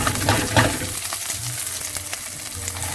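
Onions for kadai paneer sizzle and crackle in hot oil in a pan, a soft, close frying hiss with a few stirring knocks and scrapes.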